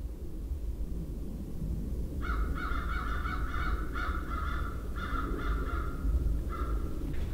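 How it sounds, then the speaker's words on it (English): Wild crows caw from the trees near a woodland cabin, several harsh repeated calls coming in short bursts over a few seconds, moderately distant above a constant rushing outdoor background. "Those crows are in season all year long, no limits, no nothing, not controlled animal"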